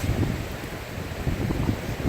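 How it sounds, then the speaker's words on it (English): Gusty wind buffets the microphone in a backyard near a road, a steady low rumble with rushing noise and no voices. "It's kind of windy today"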